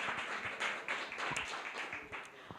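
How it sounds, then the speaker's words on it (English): Audience applause closing an evening talk event, a moderately faint, continuous patter of many hands with a few sharper individual claps standing out. "Another round of applause."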